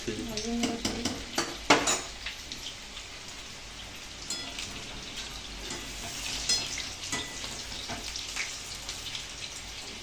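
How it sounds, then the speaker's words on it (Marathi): Food frying in a pan, a steady close sizzle with a few sharp clanks early on, moderately quiet, no talk. "दहा मिनटं तळून घ्यायचं चांगलं"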